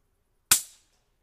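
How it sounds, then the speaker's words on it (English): A single sharp crack from a Taipan air rifle in .22 or .25 calibre, close and loud, decaying quickly into silence. "Third shot."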